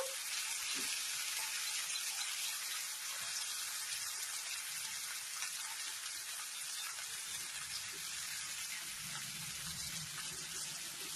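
Chopped onions and tomatoes fry in a pan with a continuous hissing sizzle and occasional soft stirring, steady and fairly quiet throughout.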